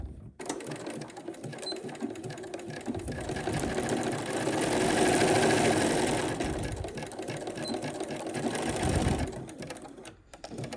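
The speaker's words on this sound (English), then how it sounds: "and then you sew down the center." A sewing machine stitches down the centre of a quilt block, its fabric pieces placed right sides together on background fabric, with a steady, close mechanical whir running unbroken for about ten seconds and no talking.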